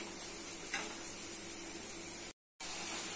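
Spice paste fries with dried shrimp in a pan, giving a steady close sizzle with a faint stir, then a brief cut to silence before the hissing resumes.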